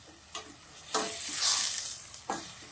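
Onions with turmeric and spices cooking slowly in oil over a low flame for a prawn and amaranth-stem curry, giving a soft steady sizzle with a few louder stirring scrapes, close and without talk.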